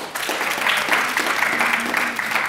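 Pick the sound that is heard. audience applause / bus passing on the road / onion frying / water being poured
audience applause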